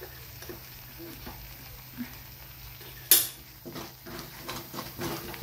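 Masala fries softly in a pan for a brinjal curry, giving a low sizzle broken by stirring scrapes and one sharp clatter of utensil on metal.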